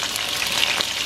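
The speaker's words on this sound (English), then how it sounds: "So you want to cook that sofrito and the sazon" Sofrito and sazon cook in a pot with a brief, even, close frying hiss and a few light crackles, with no talking.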